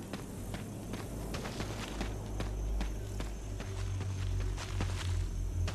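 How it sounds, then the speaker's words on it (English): Faint, irregular footsteps in Resident Evil 1 HD Remastered tap along over a low ambient drone, with no talking. "Am I hearing footsteps or what?"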